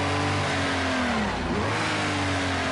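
A race car engine in Project Cars 2 screams at high revs in second gear, loud and close, holding a strained pitch with a brief dip and recovery midway.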